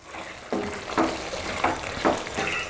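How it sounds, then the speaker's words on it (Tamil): Chettinad chicken chukka fries in a pan with a constant sizzle, broken by rhythmic stirring strokes about every half second as the masala-coated chicken is turned. "போட்டுட்டு கொஞ்சம் நேரம் நல்லா கொதிக்க விடலாம்."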